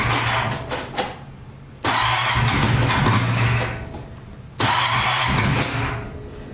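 An engine cranking and struggling to start in cold weather, three long bursts of loud grinding starter churn separated by short pauses, close and without voices.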